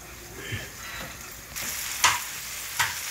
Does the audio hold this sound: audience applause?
no